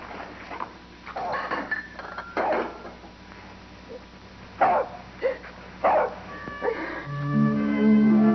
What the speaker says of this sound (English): That dog is going to be death of me